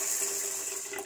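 Tap water runs steadily over dried peas in a bowl or pot, rinsing them for pea soup in chicken broth; a close, continuous splashing flow lasting about a second with no talk.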